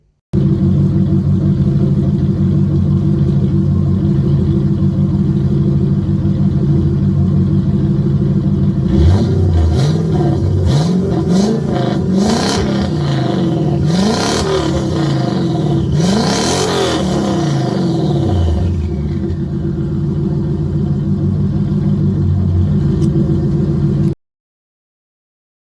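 A car parked up on ramps revs its engine hard while its turbo spools up with a rising whistle, the loud engine rumble surging and falling over several bursts before settling.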